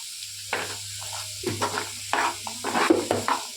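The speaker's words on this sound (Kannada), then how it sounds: "ಚೆನ್ನಾಗಿ ಸಣ್ಣ ಉರಿ ಕೊಟ್ಕೊಂಡು ಫ್ರೈ ಮಾಡಬೇಕು ಚೆನ್ನಾಗಿ" Turmeric and rock salt frying over a low flame: a soft steady sizzle with intermittent scraping stirs of a utensil in the pan, close and quiet.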